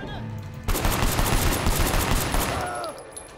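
Sustained gunfire in the Sleeping Dogs video game during a docks shootout, a dense burst of rapid shots starting abruptly and continuing loud and close for nearly three seconds before tapering off.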